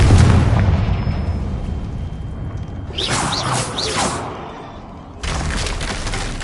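In Hogwarts Legacy, a Confringo blasting spell goes off with a loud rumbling burst and crumbling debris, then a short whooshing flurry follows, the noise fades, and a dense roar cuts back in near the end.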